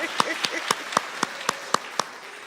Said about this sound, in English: You can applause for that